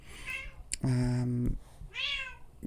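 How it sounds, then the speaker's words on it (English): A house cat meows several times, a short call followed by a longer, strong, sustained meow and a later rising one, close and loud with faint room sound between. "I think my cat there is, it's Oz, and she's saying hi"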